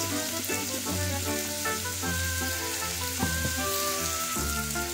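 Crab sizzles steadily in a hot pan while ginataang kalabasa, squash in coconut milk, is cooked, a continuous close frying hiss under background music with no talking.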